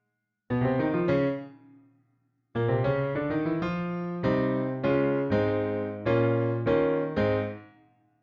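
Solo piano plays a syncopated intro riff, a bright chordal figure in two phrases separated by a short pause, close and clear with no talking.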